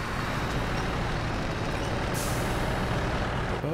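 A truck's handbrake engages in the game SnowRunner as a loud, continuous hiss of air-brake release over engine rumble, with a brighter burst of hiss partway through.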